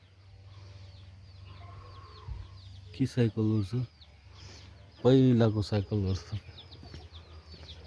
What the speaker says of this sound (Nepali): कुखुराको चल्ला छ अरे